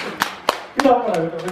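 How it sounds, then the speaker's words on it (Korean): A Buddhist dharma talk audience breaks into clapping, a few sharp claps at first, then a voice cuts in over the applause and keeps speaking at a steady level. "박수."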